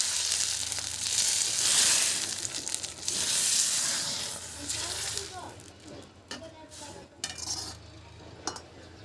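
Cumin, a dry chili, bay leaf and raw tomato sizzle loudly in hot oil for a village-style tempering of fresh pigeon peas, with stirring and utensil clatter as the frying settles down.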